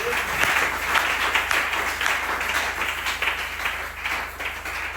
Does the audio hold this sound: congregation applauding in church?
yes